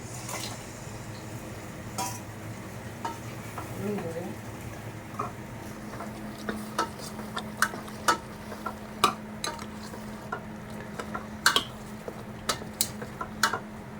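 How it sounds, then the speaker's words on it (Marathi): Mutton goes into a pan of roasted masala ground on a stone slab and is stirred, making a low sizzle and a run of sharp metal spoon clinks against the pan, with quiet speech early on. "तर आपण टाकूया मटण"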